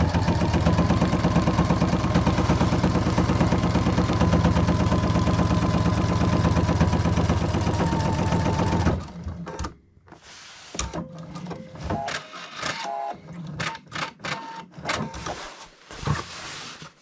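A sewing machine stitches the shoulder seams of an anorak, a loud steady close-up hum for about nine seconds, then stops and gives way to clicks and fabric handling.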